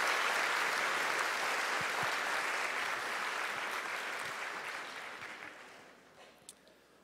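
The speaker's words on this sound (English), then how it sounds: "give him another round of applause" Sustained audience applause after a speaker at the Respect U 2016 event, a dense wash of many hands clapping that gradually thins and fades toward the end.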